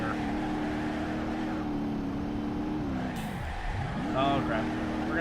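A rally car's engine in the video game BeamNG.Drive on the Pikes Peak course, a loud continuous engine drone with a gear shift dropping and rising in revs partway through, close and steady throughout.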